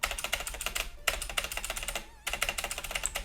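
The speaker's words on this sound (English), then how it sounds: "You can hear me battering the keyboard." Fast, hard typing on a computer keyboard gives rapid close clicks in dense bursts, with one brief break and a quieter stretch before the clatter resumes.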